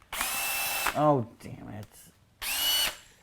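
A Panasonic 18V IP-rated cordless drill whirs at full speed in two loud, steady bursts, with a brief mechanical clatter between them and a voice speaking in the gap.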